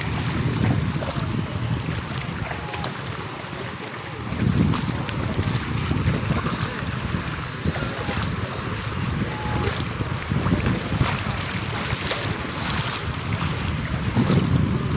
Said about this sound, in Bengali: এই সাগরটা দেখেন, এই ঢেউ সাগর আসতেছে মানে জোয়ারের দিক দিয়ে আসতেছে।